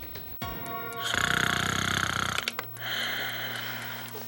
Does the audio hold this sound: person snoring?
yes